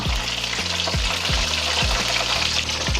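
Chicken and waffle bites sizzle loudly in hot frying oil, a steady close crackle broken by several brief low thumps at roughly half-second intervals as pieces are flipped.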